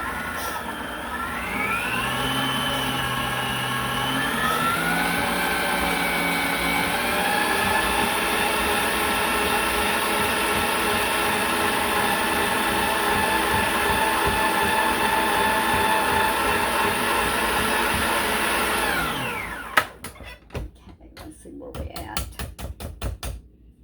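Electric hand mixer whirring steadily through sweet potato casserole ingredients, a continuous motor drone with shifting pitch that holds for about twenty seconds, then cuts off into a few clattering knocks.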